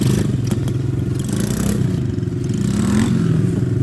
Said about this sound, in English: And there goes the bike.